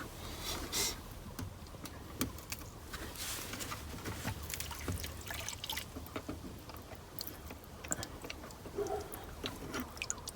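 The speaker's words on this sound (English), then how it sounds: "this is draining a lot. Seems to be a lot of fuel in the pump." Fuel drains from a removed fuel pump on a GM truck in a faint, irregular trickle and drip, with scattered small ticks and taps over a quiet background.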